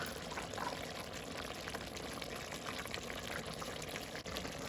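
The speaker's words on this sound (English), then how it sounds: "This is a cup of water here, and I'm just going to add this and mix it up." A cup of water poured into a mutton ghee roast with its stock in a pan, a continuous, even splashing trickle that stays close and steady throughout, no voices.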